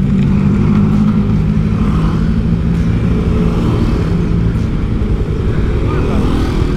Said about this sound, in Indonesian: Ini kendaraan yang melintas bergantian saat ini.